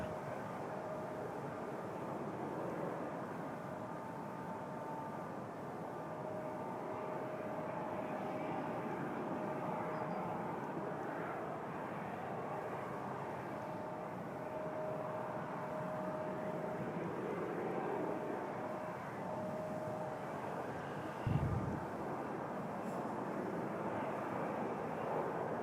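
Swoop airliner landing on runway 06 left at Toronto Pearson, a steady broad jet roar holding at moderate distance for the whole stretch, with a brief low thump near the end.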